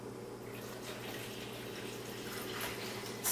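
Grape juice poured into a container without a funnel, a steady liquid splashing and gurgling that builds slightly over a few seconds, close and alone.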